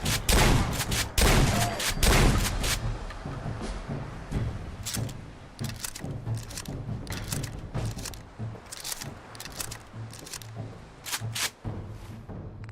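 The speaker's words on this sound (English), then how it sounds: "Shotgun." Repeated shotgun blasts in Fallout 4, sharp loud reports fired at irregular intervals, heaviest in a rapid burst early on and then spaced single shots, over a steady low game drone.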